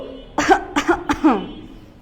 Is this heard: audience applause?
no